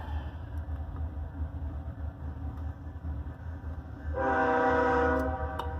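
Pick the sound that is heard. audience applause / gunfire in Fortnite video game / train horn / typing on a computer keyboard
train horn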